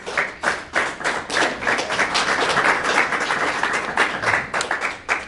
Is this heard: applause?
yes